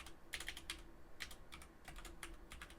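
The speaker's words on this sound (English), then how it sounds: "I'm going to type one command in the chat panel to invoke Nighthawk" Someone types a short command on a computer keyboard, with quiet, close, irregular clusters of key clicks over a faint hum.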